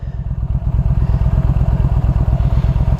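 A 2014 Yamaha Stryker motorcycle being ridden, its engine thumping in a loud, steady, rapid pulsing rhythm up close with a low rumbling drone.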